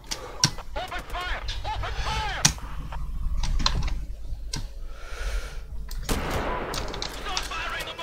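Sharp rifle gunshots crack in the Sniper Ghost Warrior 3 video game, several spaced single shots with a loud burst near the end, over mechanical clicks and ambient game noise while someone talks.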